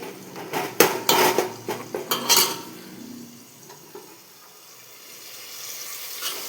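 A metal pot and spoon clatter in a burst of sharp scrapes and knocks while masala is stirred into tomatoes, then the sound trails off into quieter, faint clinks and low room noise.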